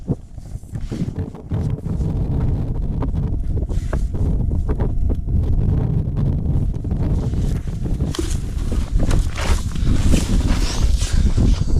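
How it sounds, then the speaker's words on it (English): Loud, buffeting wind rumbles against the microphone continuously beside a wilderness lake in Karelia, with gusty low thumps and crackling bursts and no voices. "Sorry about the wind, friends, sorry."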